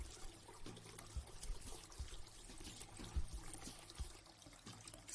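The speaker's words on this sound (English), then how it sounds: "Turn off tap with elbow." Water runs from a tap during handwashing, a faint, steady trickling pour with small splashes and irregular drops throughout, quiet and alone.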